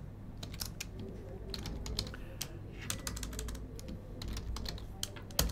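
Rapid typing on a computer keyboard while writing Java Selenium test code, with irregular bursts of sharp key clicks over a steady low hum, close and clear with no talking.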